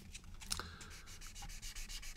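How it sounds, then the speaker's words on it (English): A foam sanding pad glued to a coffee stirrer rubbing over the curved surface of a 1/32 scale Tempest Mk V model, soft rhythmic scratchy strokes, close and quiet. "it's glued just to a coffee stirrer, so it makes a really cheap and effective sanding stick"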